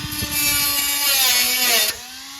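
A Dremel rotary tool cuts away rusty sheet metal on a 1973 VW, a high whining grind with a sustained pitch that runs steadily for about two seconds, close and loud, then cuts off.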